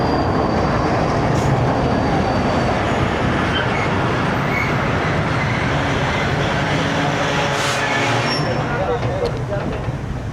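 Passenger train 14 Down Awam Express running on a winter journey in Pakistan, a loud continuous rumble and rattle of the carriages with no break, steady and close throughout.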